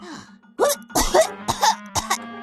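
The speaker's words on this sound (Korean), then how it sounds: "갑자기 기침이 컬락컬락." A cartoon character coughs in a quick series of harsh, throaty bursts that come close and loud, with a low steady hum running underneath.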